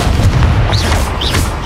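A Confringo blasting spell explodes in the Hogwarts Legacy video game, giving a loud, continuous low rumbling boom with crackling bursts and a couple of rising whooshes, and no talking.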